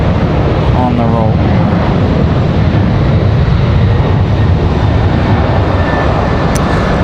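Breeze Airways Embraer E190 taking off at Raleigh Durham, a loud, constant roar of jet engines at full power that stays even throughout. A brief voice is heard under the noise early on.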